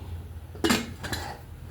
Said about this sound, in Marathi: झाकण लावून घेतलेलं आहे